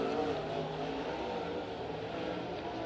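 Dirt-track race cars roar down the back straightaway at Stockton Dirt Track, a dense, sustained, loud engine drone with no letup, several cars blending into one continuous howl.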